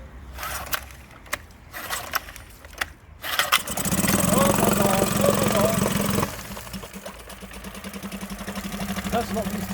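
A Honda BF5A four-stroke outboard, idle for two years, is pull-started: a few sharp cord yanks and rattles, then the small engine catches and runs with a steady close putter that dips and settles into idle.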